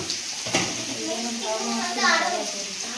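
Pumpkin frying in hot oil, a steady soft sizzle with a few brief clatters, while a voice talks over it.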